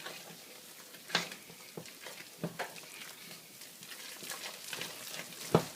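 Quiet scraping and stirring of fat- and sugar-free chocolate banana bread batter in a pan, with soft irregular spoon scrapes and a few sharper knocks against the pan.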